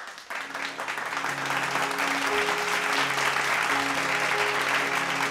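A large studio audience at a televised Punjabi children's singing competition gives a guest singer loud, sustained applause, a dense wall of clapping that builds after a brief start, with music tones sounding beneath it.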